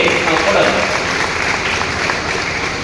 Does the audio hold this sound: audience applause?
yes